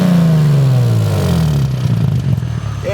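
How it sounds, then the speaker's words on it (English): A Nissan G35/350Z VQ engine fitted with a cheap exhaust revs loud and close, its pitch sliding downward as the revs fall away, with some clatter toward the end. "I'm gonna try to rev it."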